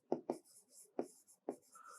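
Quiet taps and short strokes of writing on a board in a classroom lecture on engineering, a few distinct marks with small gaps between them.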